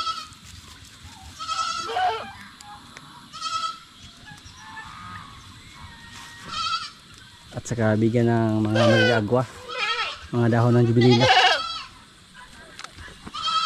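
Mother goats let out with their kids give several short, wavering bleats spread across the stretch, some near and some farther off, with a person talking in between.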